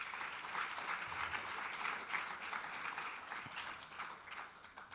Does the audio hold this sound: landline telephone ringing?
no